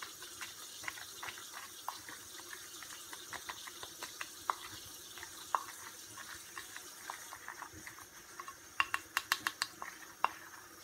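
Food stirred in a pot in a home kitchen, with faint scraping and clinks of a utensil against the pot, sharper metallic taps near the end, and a low background hiss.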